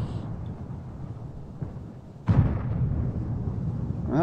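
A tank gun fires in the video game World of Tanks, one sudden booming blast partway through that cuts through a low, steady engine rumble and leaves a lingering roar afterward.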